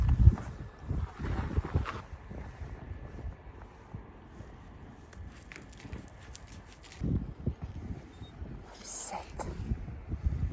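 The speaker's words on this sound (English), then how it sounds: "It's a bit windy." Gusty wind blows outdoors on Svalbard, buffeting the microphone with uneven low rumbles and stronger bursts, while a person talks intermittently.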